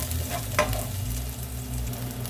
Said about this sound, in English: Stir fry garlic make nice and brown smell good